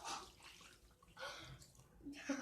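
Water is poured from a bowl into a mini greenhouse for indoor gardening, heard as short splashing bursts with pauses between them, close and fairly soft.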